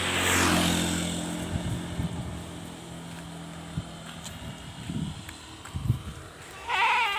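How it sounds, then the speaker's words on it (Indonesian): A goat carried in a sack in a village in Aceh bleats in a loud burst at the start, then calls out in several short, muffled cries and a final bleat over quiet outdoor background. "Ini kita bawa kambing ini dengan menggunakan karung."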